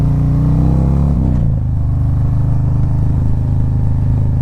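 A 2020 Harley-Davidson CVO Street Glide with the 117 engine rumbles loud and close, its deep throbbing exhaust note shifting pitch around a second in as the revs change, then settling into a steady, heavy idle-like pulse.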